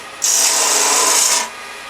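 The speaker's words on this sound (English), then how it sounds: "Then I just turn the gouge around and start on the top side of the lid." A wood gouge bites into the top of a spinning box lid on a lathe, a single bright, loud, close shearing hiss lasting just over a second against a quieter motor hum.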